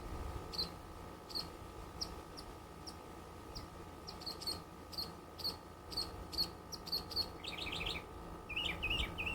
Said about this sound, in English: I want to know what kind of bird that is